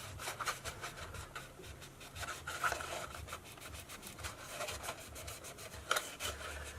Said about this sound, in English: I'll go around and just rub all the sections, and I'm applying pressure on the inside as well